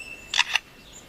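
A forest songbird imitates a camera shutter, giving two quick, crisp mechanical clicks in close succession against a quiet background.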